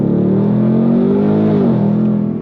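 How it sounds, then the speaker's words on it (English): Ford Mustang Dark Horse with Hennessey H850 upgrades roars loudly and steadily as the engine and exhaust rev up, a deep close droning growl rising slightly in pitch before easing off. "Love the pops, the bangs. You got a real deal exhaust sound, nothing pumped in"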